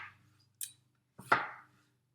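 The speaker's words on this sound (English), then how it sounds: "So I'm going to cut this in half and slice it." Knife slicing through a skin-on spring vegetable from a farmers' market, two crisp cutting strokes, close and clear, separated by a short pause, with a faint low hum underneath.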